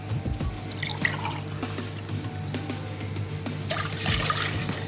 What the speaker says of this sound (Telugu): 2 కప్పులు వాటర్ వేస్తున్నాను ఇక్కడ.